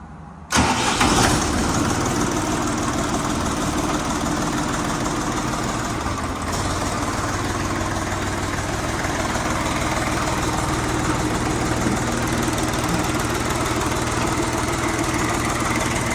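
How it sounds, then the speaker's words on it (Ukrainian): A Bulat 244L tractor with a KM engine from Laidong fires up and then settles into a steady, loud, continuous idle, heard close and alone with no talking. "Ось так працює КМовський двигун від компанії Лейдон."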